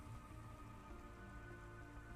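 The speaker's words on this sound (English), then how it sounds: "Don't let all the rain get you down." Steady rain falls across a city street in the video game Cloudpunk, a dense, even hiss that holds without a break and with no voices over it.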